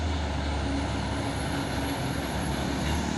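A bus goes by on the road as a loud, close, broadband roar of engine and tires that holds steady for a few seconds, with a faint high whine on top.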